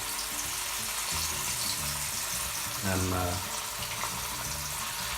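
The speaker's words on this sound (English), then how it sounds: "So I'm heating the oil in medium high to high flame, and we start frying." Salmon sizzles skin side down in hot oil over medium-high to high flame with a steady crackling hiss, while a voice talks over it and a brief clatter comes midway.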